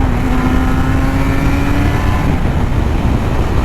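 A Suzuki RG500 two-stroke motorcycle with Nikon exhausts on a road ride, loud and close, a dense engine roar with a rising tonal whine through the first seconds before settling into a steady drone.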